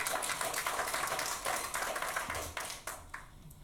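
Brief scattered clapping from the public gallery at a Wellington City Council meeting, a few hands striking at close range and fading within seconds.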